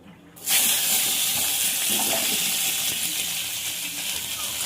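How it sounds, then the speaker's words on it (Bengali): Cut vegetables and drumstick pods hit hot oil in a pan with a sudden loud burst, and the sound settles into a steady, broad, intense sizzle and hiss that stays strong and close to the end. "তেলটা গরম হয়ে গেছে, সবজিগুলো দিয়ে দেবো।"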